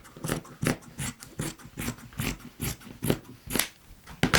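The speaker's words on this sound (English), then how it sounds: "So I have this fabric that matches very well. Just let me cut a piece off." Scissors snip through a piece of fabric in a series of repeated short, crisp cuts at a steady rhythm, close and fairly quiet, with no talking.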